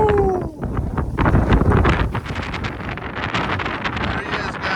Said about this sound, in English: It is a very windy day, about 25 to 30 miles an hour.